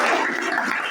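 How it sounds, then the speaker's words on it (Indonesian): Students in a high school classroom clap together in a brief, dense burst of applause, close and fairly loud. "Tepuk tangan dulu."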